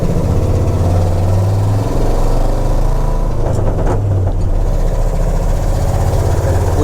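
Ford F250 Highboy truck engine running on a knockoff Motorcraft-style 2-barrel carburetor, a loud, steady low rumble with a slight change in pitch partway through, heard close with no talking.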